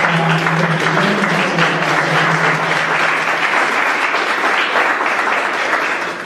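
Loud, sustained applause from a large audience at an academic forensic social work lecture fills the room, holding steady for several seconds before beginning to fade at the end.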